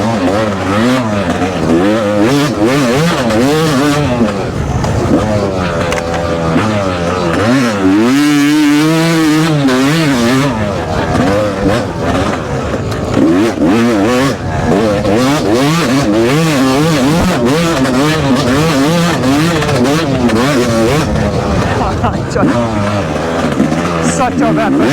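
A Yamaha YZ250X dirt bike and a sport ATV tear around a track, engines revving and wailing up and down in repeated surges, loud and close throughout, with a person talking over them.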